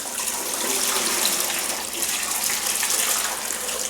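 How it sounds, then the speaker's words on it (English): Broth pours in a steady, splashing stream through a colander into a pot, a continuous gushing rush close by with no talking. "it's just a matter of pouring all your juice and everything right into the colander"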